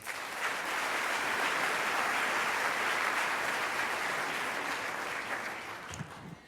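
Congregants at a synagogue solidarity service applaud their president, a dense, even wash of clapping that holds steady for several seconds before tapering off.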